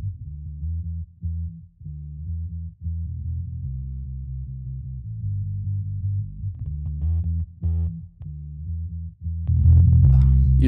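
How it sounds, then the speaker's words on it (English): A bass line distorted with iZotope Trash multiband distortion plays in a steady riff of repeated notes, gritty, thick and buzzing with a strong low end and no voices. "Using Trash's multiband distortion, we can add grit without losing punch or low-end definition"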